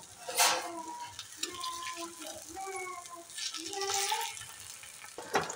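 Arbi leaf rolls fry in oil in a kadhai, giving a continuous soft sizzle with scraping and clinking as they are turned, while someone talks over it and music plays faintly underneath.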